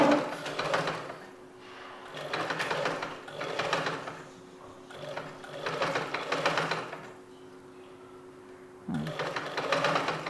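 A sewing machine stitches together four pieces of gathering pants, running in several whirring bursts of a few seconds each, separated by brief pauses, with close and steady motor hum.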